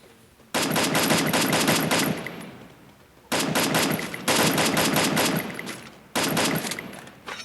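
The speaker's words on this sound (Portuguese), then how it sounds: "Eu levei tiro" Three long bursts of rapid automatic gunfire in a video game, loud and close, separated by brief pauses, with no talking.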